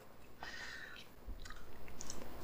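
Close, quiet chewing of food while chews are counted: soft, irregular wet mouth sounds and small crunches that grow louder and more rhythmic toward the end, with no talking.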